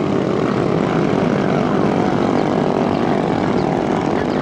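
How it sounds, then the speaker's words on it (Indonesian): A racing engine roars continuously and loud at a race with a concrete mixer-style machine, a steady droning buzz with no pauses. "Suara mesinnya."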